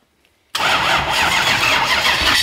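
A 1UZ V8 engine swapped into a Mazda Miata cranks and fires after a moment of near silence, then settles into a loud, steady idle close by, with no voices.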